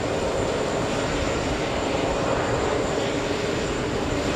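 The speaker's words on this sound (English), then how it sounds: "we're going to stay with the A220. Once again, this one flying in" An Airbus A220 airliner flies in to land at JFK, its engine roar a steady, broadband rumble that holds evenly throughout with no talk over it.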